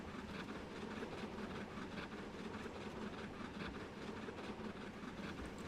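A locomotive in Trainz Simulator 3 rumbles along steadily with a dense, continuous roar and faint rhythmic clatter of wheels, heard alone at even volume throughout.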